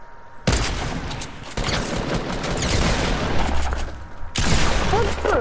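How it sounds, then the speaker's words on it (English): Pump shotgun blasts in a video game, with loud broadband booms starting near half a second, another around 1.6 seconds and a third near 4.4 seconds over a continuous roar of game noise. "It's a fucking pump shotgun."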